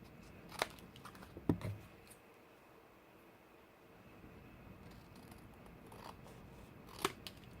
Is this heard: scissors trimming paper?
yes